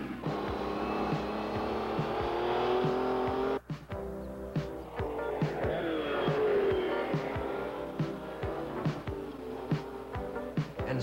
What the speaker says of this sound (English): here he is, racing to meet his fate in a brand new Ferrari Berlinetta